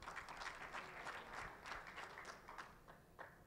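At a certification award ceremony, an audience gives brief, faint applause that rises and falls in a few waves.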